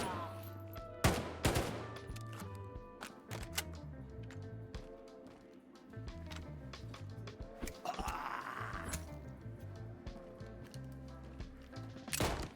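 Rhino revolver shots and other gunfire against zombies in the video game STALKER 2, sharp cracking bursts scattered over a busy background of game sounds and music-like tones, some shots landing in quick clusters.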